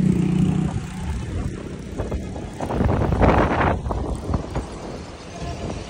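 Strong wind blowing beside the Chenab river, a loud, continuous rushing roar buffeting the microphone, swelling in gusts throughout with no voices.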